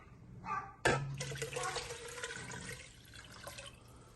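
Water pours into a pot for asparagus soup, a brief knock followed by a continuous splashing gush that runs for a few seconds and tapers off, close and fairly quiet.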